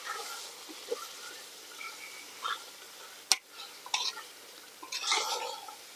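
Chicken gravy is stirred in a pan with scraping, wet bubbling and clicking strokes, a sharp utensil tap near the middle and busier stirring toward the end, all close and moderate in level.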